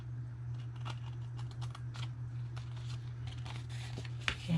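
Paper tab being angle-cut with scissors while making a Christmas card box: several soft, crisp snips and rustles close by over a steady low hum, with no talking.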